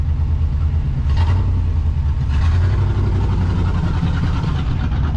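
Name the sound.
old Chevy car driving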